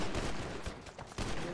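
Rapid gunfire in a GTA V roleplay game, dense overlapping bursts of shots filling the whole moment, loud and continuous with a brief dip before resuming.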